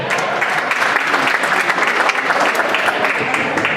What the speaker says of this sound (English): Please give a nice round of applause for Rusty Poland.